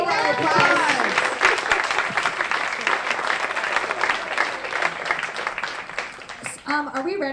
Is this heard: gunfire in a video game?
no